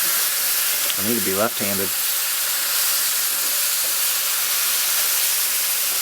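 Ground beef browning in a pan sizzles loudly and steadily, a dense, even hiss that carries on throughout while someone speaks briefly near the start.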